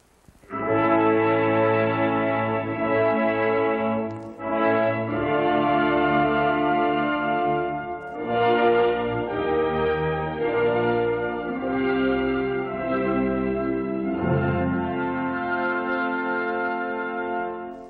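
An orchestra's brass section plays sustained chords that swell and hold in sections, rich and full, with brief pauses between phrases.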